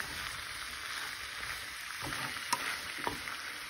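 Rice for a special fried rice frying in a pan over medium heat, a steady soft sizzle with a few light scraping clicks from stirring, close and alone.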